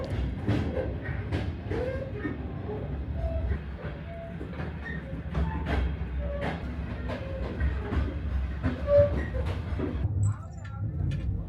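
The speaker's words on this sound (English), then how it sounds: "our train departed Ulaanbaatar station on time for the 381-kilometer leg to Sukhbaatar" A passenger train pulls out of Ulaanbaatar station in Mongolia, bound for Sukhbaatar, with steady rumbling wheels, scattered clicks and brief squeals under ongoing talk.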